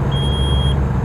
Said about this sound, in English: let's get rid of that beeping sound